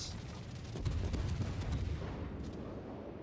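Rapid, dense low-pitched anti-aircraft fire in World of Warships, a battleship's defensive AA guns rattling continuously against torpedo bombers, swelling in the middle and then tapering off.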